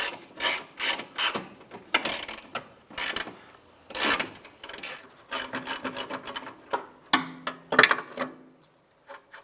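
A ratchet and shallow socket work the rear upper control arm nut on a 2003–2011 Honda Element, giving bursts of quick clicking strokes with short pauses and a few metallic clanks, close up, no voices.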